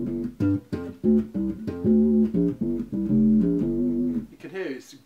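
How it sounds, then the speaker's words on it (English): Electric bass guitar through an octave pedal, giving a synth bass tone: a continuous line of thick, low sustained notes with quick changes in pitch, loud and close, with no talk. "you can hear it's a great synth bass sound now."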